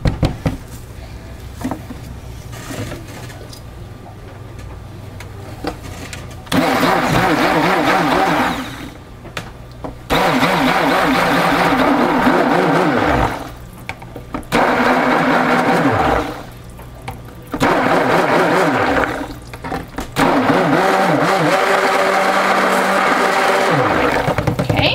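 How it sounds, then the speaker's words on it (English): Stick blender mixing soap-making oils and additives in loud, sustained whirring bursts, switched on and off several times with short pauses between runs. "I'm going to use my stick blender to finish these oils,"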